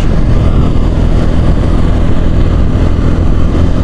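Heavy Friday road traffic of cars and motorbikes on a busy city road, heard from a moving motorbike as a loud, dense, unbroken roar and rumble with no gaps.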